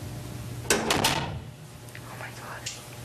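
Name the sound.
door closing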